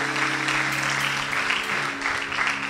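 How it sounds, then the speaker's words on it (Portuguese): Church congregation applauding together, a dense burst of steady clapping that fills the room, close and loud throughout. "Um aplauso ao Senhor Jesus pela vida dele"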